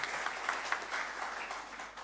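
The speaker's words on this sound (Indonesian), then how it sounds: "Boleh kita tepuk tangan dulu untuk Yayasan LS Indonesia." A crowd at an Indonesian church foundation's 49th anniversary charity evening applauds the foundation with a steady, dense wash of clapping for about two seconds, at moderate distance in a large hall.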